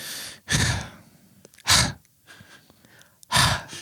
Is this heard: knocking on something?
no